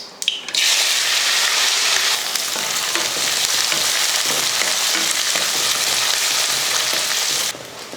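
Onions, garlic and curry leaves fry loudly with mustard seeds in hot oil, a dense continuous sizzle that kicks in abruptly after a brief moment and holds steady before dropping off near the end, with no voices.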